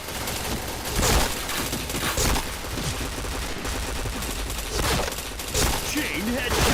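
Gunfire in a shooter video game crackles in repeated bursts over a noisy, busy soundscape, fairly loud and steady throughout.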